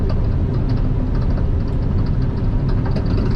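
A vehicle's engine brake holds it back while slowing, giving a loud, steady low-pitched rumble that stays even and continuous throughout, with no talking.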